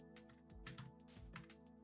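Computer keyboard typing, a short burst of several quick, soft key clicks close by and quiet, over a faint steady electronic hum.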